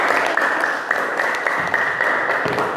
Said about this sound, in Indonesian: Beri tepuk tangan untuk Mas Hasan.